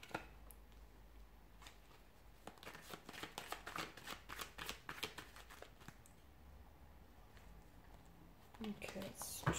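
Tarot cards shuffled by hand in a riffle of rapid papery flutters and taps, close and fairly quiet, continuing steadily for several seconds with brief pauses.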